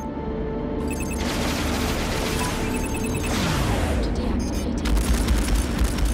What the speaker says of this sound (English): it's so satisfying to paint a whole enemy squadron and then unleash those missiles